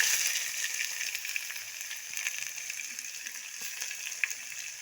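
Curry leaves, bay leaves and cumin sizzle in hot oil for a tempering, a steady close frying hiss with small pops throughout and no voices.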